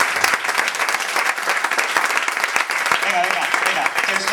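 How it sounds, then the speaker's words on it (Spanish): Steady, dense applause from an audience at an amateur stand-up comedy contest in a café, sustained clapping throughout with a brief voice rising faintly near the end. "estos aplausos anónimos mola mogollón"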